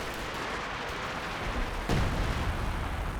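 Tank cannon fire in the World War II strategy game Company of Heroes 2, heard as one sharp, loud blast landing partway through over a steady rumbling battle bed.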